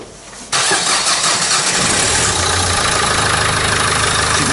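A Nissan Qashqai engine cranks and catches after a brief quiet moment, then settles into a steady, close, even idle that carries on to the end.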